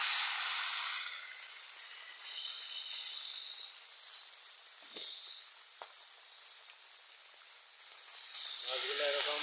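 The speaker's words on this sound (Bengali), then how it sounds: "তেলটাও গরম হয়ে গেছে। ঠিক মাছটা আমরা যেভাবে ছেড়ে দিই," Spiced fish slides into hot oil and fries with a steady, loud broadband hiss and sizzle that holds throughout and swells near the end.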